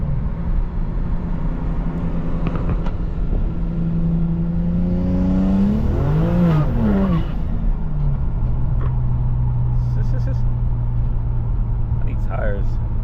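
A turbocharged BMW 335i with the N54 engine pulls hard: the engine drones steadily, then climbs through a rising, warbling rev sweep, dips and settles into a steady cruising hum, with a voice talking over parts.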